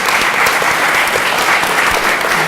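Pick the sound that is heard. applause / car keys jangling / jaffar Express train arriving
applause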